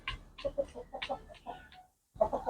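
A hen clucks in a rapid run of short calls close by, pauses briefly, then starts clucking again.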